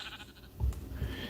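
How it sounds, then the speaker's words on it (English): A sheep bleats twice in the video game Minecraft, short close calls over a quiet backdrop. "That's a sheep."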